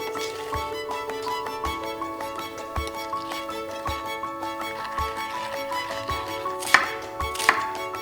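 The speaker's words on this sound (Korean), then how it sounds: "양파는 식감 좋게 굵직하게 썰고 대파는 먹기 쉽도록 길게 썰어줬다." A knife chops through onion and green onion on a cutting board with steady, evenly spaced thuds, close and clear, while preparing a spicy pork belly stir-fry, with no talk.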